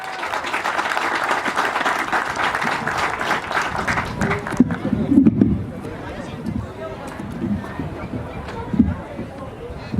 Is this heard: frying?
no